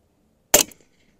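A Rattler .357 rifle firing a Mr. Hollow Point slug lets off one loud, sharp report close by that cuts off quickly into a brief echo and then silence.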